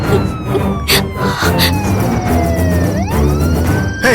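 A police car siren wails from a distance in a Tamil street scene, its tone sliding down and then sweeping back up, sounding faint to moderate beneath a dense layer of background noise and crowd murmur.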